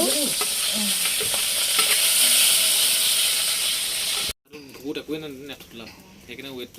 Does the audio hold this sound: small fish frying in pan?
yes